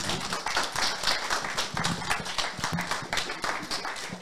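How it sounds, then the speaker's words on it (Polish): Applause from a crowd at a hackathon pitching session, a steady wash of many hands clapping at once, fairly loud and continuous throughout. "To prosimy jeszcze raz o brawa."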